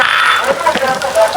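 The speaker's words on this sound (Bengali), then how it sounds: "তেলটা দিয়ে দিয়েছি, গরম হয়ে গেছে, দিয়ে দিলাম পেঁয়াজ কুচি" Chopped onions sizzling in hot oil in a home kitchen, a steady bright hiss throughout with faint crackles, heard at close range and without any talking over it.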